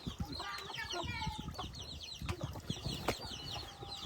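Chickens cluck and squawk close by in a busy, uneven chorus, with occasional sharp calls and faint voices in the background.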